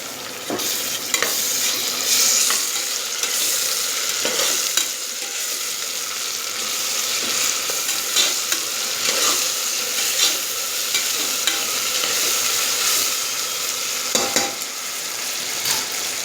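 Sliced onions sizzling and frying with ginger garlic paste in a pan for mint rice, a steady close hiss broken by occasional scrapes of a stirring spoon, no voices.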